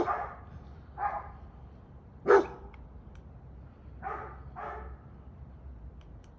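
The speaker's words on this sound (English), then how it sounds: "There's a dog barking on the side" A dog barking off to the side during a training session, five or six separate barks spaced a second or so apart, moderately distant and alone with no talking.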